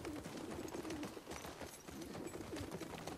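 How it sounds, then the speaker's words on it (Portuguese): Pigeons cooing in the video game The Last of Us Part II, a soft repeated low coo heard a few times over a steady wash of ambient wind and outdoor game atmosphere. "Pombinhos arrulhando."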